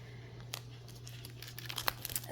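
Scissors work at a package with a few faint snips and some crinkling of packaging. A steady low hum runs through the room behind them.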